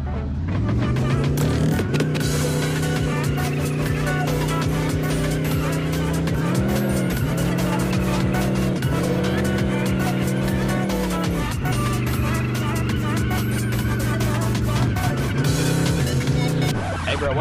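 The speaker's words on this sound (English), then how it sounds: "let me show you my skill at drifting" A car drifting in the video game Chicken Gun, with a loud, continuous engine drone and rising-and-falling tire squeals that sweep in pitch through the turns, close and steady throughout.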